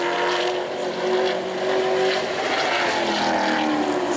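A sportsman-class race car at New Smyrna runs a qualifying lap, a steady engine drone holding strong and continuous, swelling slightly midway without a break or voice.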